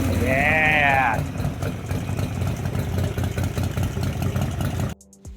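A motorcycle engine fitted with a Mikuni HSR-42 carburetor idles close and steady with an even, throbbing putter, briefly overlapped at the start by a high wavering tone before the engine cuts off near the end.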